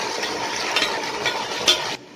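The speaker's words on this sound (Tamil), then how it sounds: "இந்த ஸ்டேஜில் நம்ம தக்காளியை போடுறோம்" Tomatoes going into a pan of frying onions in oil and ghee: a steady, close hiss of sizzling with a few brief louder spurts and stirring scrapes, cutting off abruptly at the end.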